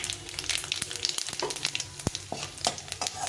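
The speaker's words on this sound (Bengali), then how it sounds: "জিরেটা একটু নেড়ে চেড়ে ভেজে নিই" Cumin seeds and dried red chillies fry in hot oil, crackling and popping in quick irregular bursts over a continuous sizzle, close and fairly loud, with occasional stirring clicks.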